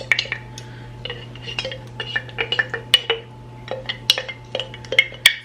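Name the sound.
stirring mustard into ketchup in a dish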